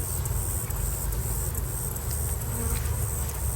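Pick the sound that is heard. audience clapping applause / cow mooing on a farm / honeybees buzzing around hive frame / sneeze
honeybees buzzing around hive frame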